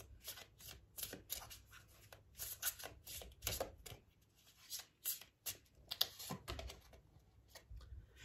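Oracle cards of ascended masters shuffled by hand, giving a quick, irregular patter of soft card flicks and taps, close but quiet, with no speech.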